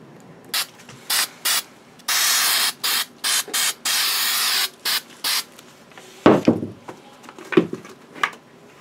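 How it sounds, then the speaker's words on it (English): 77 spray adhesive is sprayed onto the fabric liner of a Rogue One rebel soldier prop helmet in a run of short hissing bursts and two longer sprays, followed by a few clicks and handling noises. "So I'm going to spray 77 that, and I'm going to slide this into place and secure that down nice and tight."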